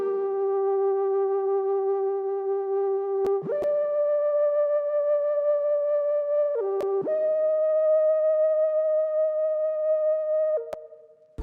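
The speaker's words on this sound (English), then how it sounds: "I added the same chords again, slightly altered, using a different preset called Hard Toes Woodwinds." Mono synth chords from the Hard Toes Woodwinds preset in Pigments, played in Ableton for a trap beat: sustained pure, reedy tones that shift pitch in three or four held steps with short clicks at each change, loud and alone.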